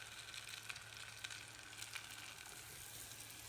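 Onions frying in butter give a faint, steady sizzle with soft crackles and pops scattered throughout, heard alone without any talking.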